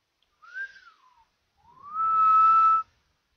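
A person whistles two clear notes up close: a short rising-and-falling tone, a brief pause, then a longer, louder held note that ends abruptly.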